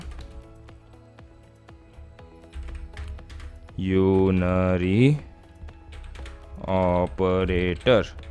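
Light keyboard taps as C code is typed on a computer, soft scattered clicks under a man's speech that comes in two bursts.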